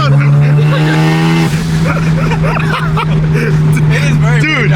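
Engine of a right-hand-drive JDM car under way, a loud, steady low drone with shifting higher engine tones as the revs change, heard from inside the cabin with voices talking over it.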